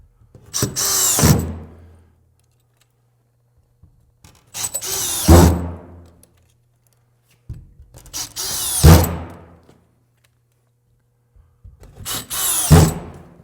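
A power drill drives screws into a drywall panel, four separate short whirring bursts that each end in a brief bite as the screw seats, with quiet gaps between them and no talking.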